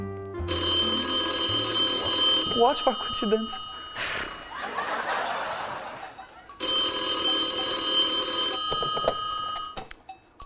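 A telephone rings with an incoming call: two long stretches of steady electronic ringing, split by a busier noisy middle section, with people talking in the room around it.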